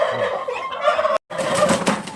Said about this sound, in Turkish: Güzel hindiler var, güzel var.